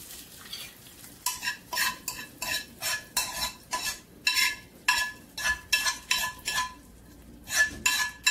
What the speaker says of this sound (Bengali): বাগার দিয়ে দেব ডালের মধ্যে।